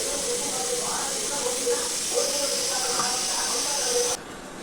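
Oil heating in a pan for tempering sambar gives a steady close hiss and sizzle that runs almost throughout, then drops away abruptly near the end.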